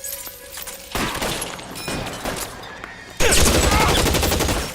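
Gunfire in the video game LA Noire comes in sharp bursts of shots, with a loud volley near the start and another heavy, sustained burst toward the end, mixed with brief shouted voices.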